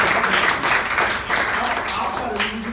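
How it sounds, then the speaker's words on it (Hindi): Schoolchildren in a classroom clap together in a brief, loud, continuous round of applause, with voices faintly underneath. "ताली बजा दो।"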